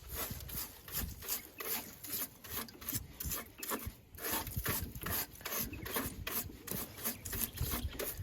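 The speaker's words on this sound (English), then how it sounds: "Just going to give this a bit of a brush out" Rust and paint are brushed off a go-kart part in quick, rhythmic scrubbing strokes, a steady scratchy rasp repeating several times per second. Quiet and close, with no voices.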